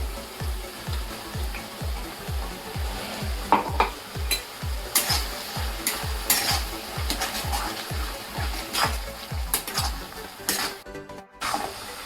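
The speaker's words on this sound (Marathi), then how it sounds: "आता ह्याच्यामध्ये मिरची घालते" Chili paste made with garlic and peanuts is stirred into softened tomatoes frying in a pan for a tomato chutney. A spoon scrapes in a steady, quick rhythm over a constant close sizzle, with no talking.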